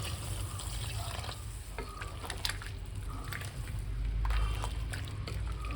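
About one and a half cups of water go into chicken roast masala in a pan, a continuous splashing pour with small trickles and drips, close and steady, with no talking.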